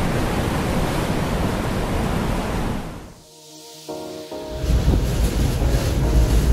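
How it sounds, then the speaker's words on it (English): Roaring typhoon wind with a broad rushing wash of rain noise, a brief lull midway, then the loud gusting returns. "The room's almost shaking with the force of the wind."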